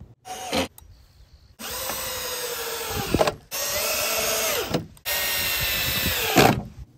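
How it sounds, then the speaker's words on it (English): Power drill driving 2-inch screws through pallet wood into 2x4s: three sustained whirring runs of a couple of seconds each, separated by brief pauses, loud and close, with no talk. "Use 3 2-inch screws on each side to secure it into the 2x4s."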